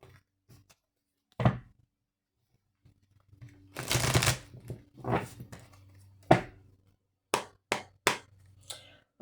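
Oracle cards shuffled by hand before the deck is cut, with scattered close riffles, soft taps and one longer burst of shuffling, separated by quiet gaps and no voice.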